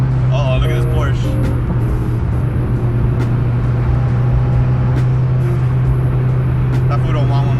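A Porsche drives past on a road, heard from inside a car as a steady low engine and road rumble, with voices chatting over it.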